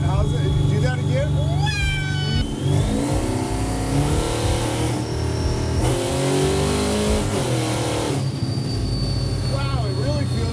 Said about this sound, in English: On the outside of this, all you hear is the blower whine.